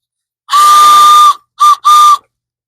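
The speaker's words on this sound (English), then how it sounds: "So there's our whistle." A homemade whistle is tested with one long shrill tone followed by two shorter blasts, loud and close, with silence between them.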